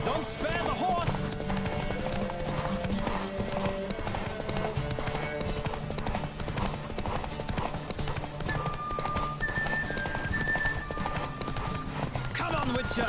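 Horse galloping in a race in The Witcher 3 video game, rapid continuous hoofbeats running the whole time under game music and frequent spoken voices, with an occasional whinny.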